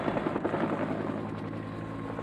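A helicopter's rotor thumps steadily, a continuous loud whirring drone with no voices; helicopters lifting refugees from a rooftop during the 1975 evacuation in Vietnam.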